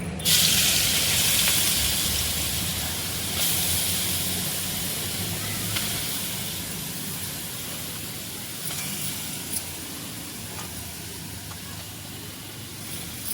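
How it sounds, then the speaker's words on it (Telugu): Grated beetroot hits hot ghee in a pan for halwa, bursting into a loud hiss that settles into a steady, close sizzle with a few small pops. "ఇప్పుడు తురిమి పెట్టుకున్న బీట్రూట్ని వేసుకుందాం"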